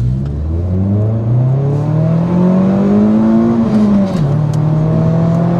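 A Ford Focus MK1 engine holds a steady, loud drone near 4,000 rpm while driving, with the pitch slowly climbing and then dropping as the revs ease off.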